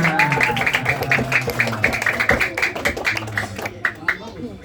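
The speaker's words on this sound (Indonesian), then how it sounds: "Nah, tepuk tangan" Children at a Quran study class clap their hands together in a quick, uneven patter of sharp claps lasting several seconds, close by, with an adult voice talking over it.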